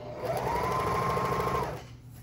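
A sewing machine stitches along the frayed edge of silk, one continuous close whir lasting under two seconds before stopping, with no voices.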